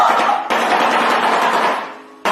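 A shoebill opens its bill with a loud, dry wooden clattering, a dense close burst of rapid knocking that runs for about two seconds and then cuts off.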